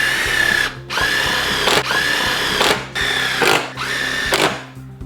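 A power drill drives 3-inch and 3.5-inch stainless steel screws into a jamb mount for a stair railing, whining loudly up close in four bursts of about a second each, with brief pauses between.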